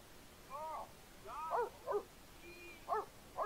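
A dog in The Sims 3 gives a series of short, whimpering yips and barks, about five separate calls spaced irregularly over quiet game ambience.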